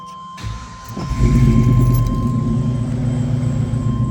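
A 1986 Chevrolet K5 Blazer engine cranks briefly, then catches and settles into a steady, rumbling idle, close and fairly loud, with a faint clink of keys at the start.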